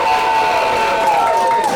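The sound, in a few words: audience applause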